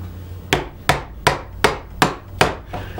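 A chisel is struck to undercut the end grain of a wooden mortise, giving six evenly spaced, sharp mallet knocks about a third of a second apart, each ringing briefly and heard close with no talk.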